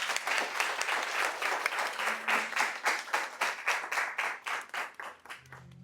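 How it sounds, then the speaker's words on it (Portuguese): A church congregation applauds, a dense burst of hand clapping that settles into rhythmic, evenly spaced claps and gradually thins and fades toward the end. "Pode aplaudir."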